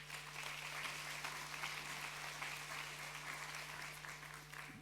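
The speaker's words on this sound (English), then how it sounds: "you get a round of applause before you begin speaking" An audience at an online learning world conference gives a steady round of applause, dense and continuous throughout at moderate distance, with no voices above it.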